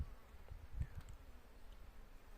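Honeybees flying at a hive entrance on a mild January day with snow around, a faint buzzing of wings with a few brief louder passes close by, no talking.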